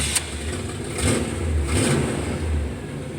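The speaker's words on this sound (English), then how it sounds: "let me see if it'll crank" An old Chevrolet Caprice with fuel problems and an exhaust leak cranks and runs, its engine rumbling low and steady with a couple of swells in revving, heard close up and without talk.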